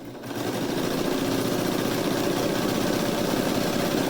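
Serger stitching clear elastic onto the edge of briefs, a steady continuous mechanical hum with rapid needle chatter running loud and unbroken throughout, no talking.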